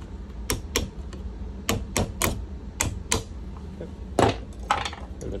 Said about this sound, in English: And you'll take your screwdriver and just kind of tap until it clicks.